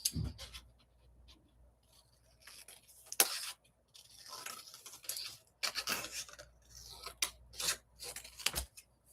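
Paper is trimmed by hand with scissors for scrapbooking, with faint, intermittent snips and scraping rustles, close by and sporadic, plus a few sharper handling clicks in otherwise quiet surroundings.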